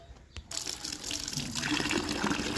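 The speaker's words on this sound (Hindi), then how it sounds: "पानी भर रहे हैं हम अपने पेट्स के लिए" Tap water gushes into a container being filled for pets, starting after a short quiet moment and growing fuller and louder as it runs steadily close by.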